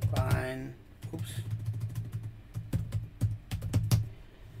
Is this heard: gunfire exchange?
no